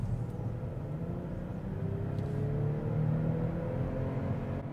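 BMW X5 xDrive45e plug-in hybrid SUV accelerating on a highway in sport mode, a steady, muted low engine and road rumble heard from inside the well-insulated cabin, with a faint rising tone.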